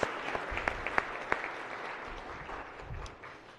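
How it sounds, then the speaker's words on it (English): Applause in a state Senate chamber welcoming a visiting school group, a few sharp individual claps at first, then a softer, spread-out patter that fades slowly in a large room. "if we can give a rousing round of applause for the Bel Air Edison School"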